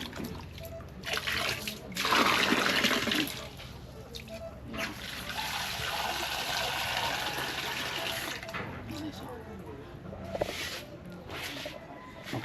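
Tap water runs and trickles steadily while a potted plant is rinsed, a close, continuous splashing flow with brief louder gushes.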